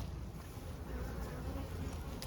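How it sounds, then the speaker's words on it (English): A packed honey bee colony in an open hive, checked during the honey flow, gives a steady, dense buzzing hum that runs close and continuous with no talking over it. "Well, it's packed full of bees."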